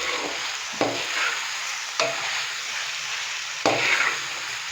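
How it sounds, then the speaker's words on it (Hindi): Chicken pieces fry with whole spices such as cloves for a pulao, sizzling steadily while a spoon stirs and scrapes the pan in three distinct bursts, close and fairly loud with no talking. "अभी हम 4 से 5 मिनट चिकन की अच्छे से भुनाई कर लेंगे।"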